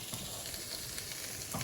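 Onions fry in a pan with a steady, quiet sizzle and crackle, with faint stirring and no talking.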